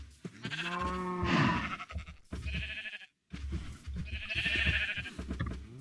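Cows in the Minecraft video game give a few loud, drawn-out moos one after another, with no talking.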